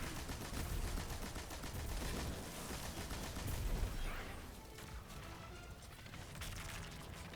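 Gunfire and a grenade blast against a champion enemy in Destiny 2, a dense run of shots and crashes with a louder burst midway, continuous action with no talk.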